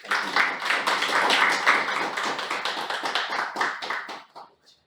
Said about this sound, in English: Let's welcome him with huge round of applause.